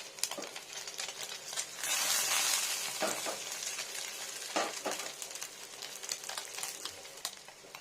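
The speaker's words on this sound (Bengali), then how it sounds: "ভালো করে স্ট্রং করে ভাজতে হবে আর আজকে একটু স্লো করে দিয়ে টেম্পারেচারটা আর এটা ভালো ভাজা যাবে" Small bata fish fry in hot oil in a pan, a close, steady sizzle and crackle with occasional stirring clinks and a louder hissing surge, no voices.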